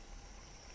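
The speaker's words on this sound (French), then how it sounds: "c'est une moto qui passe derrière." A motorcycle passing outside behind a kitchen comes through as a faint, steady engine drone, muffled and distant under low background noise.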